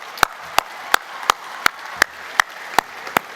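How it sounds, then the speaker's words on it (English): Loud, sharp claps in a slow, steady rhythm, about nine evenly spaced beats, sound close over a quiet hall at a music awards ceremony. "Can we have a round of applause for them?"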